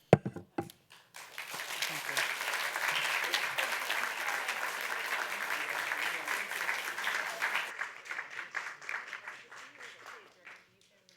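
Audience applause at a talk on local health infrastructure and vaccine development, a sharp start then steady sustained clapping for several seconds before thinning out and fading.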